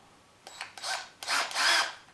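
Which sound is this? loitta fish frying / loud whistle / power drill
power drill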